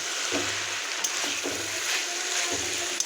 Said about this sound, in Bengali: নিজেদের ভেসেলে দিয়ে দিলাম ফুলকপি ডাটাগুলো ভালো করে নাড়িয়ে মিশিয়ে নেব